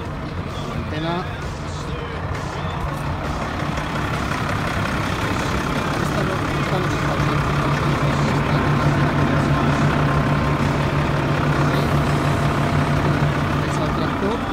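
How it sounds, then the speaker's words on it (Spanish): Tractor engine running steadily on an inclined cleared slope during a GPS precision test, a continuous low diesel rumble with a sustained hum, while people talk over it. "Es el tractor."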